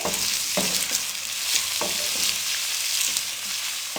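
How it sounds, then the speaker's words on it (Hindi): Finely chopped onions fry in hot oil over a medium flame, a steady close crackling sizzle broken every second or so by louder scraping stirs, with no talk. "प्याजों को मीडियम फ्लेम पे हम हल्का गुलाबी कर लेंगे"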